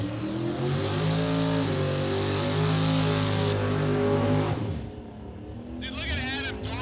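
Drag racing cars at Sick Week 2022 in Bradenton: a loud, close engine roars and revs with rising harmonic tones, then cuts off, and a faint whine follows, with an announcer talking over it.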